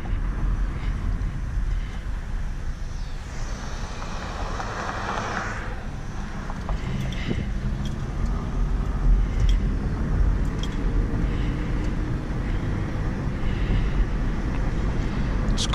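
A 2015 Hyundai Sonata SE rolls along a road in normal drive mode, giving a steady, muffled cabin rumble with soft wind noise and low road hum throughout.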